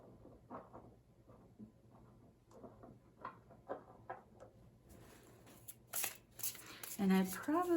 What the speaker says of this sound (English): I might shuffle in silence, so that's what's happening